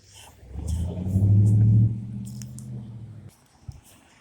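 A single car rumbles past on a busy street in Mineola, swelling from faint to a loud, close pass around the middle and fading out, with a brief knock near the end.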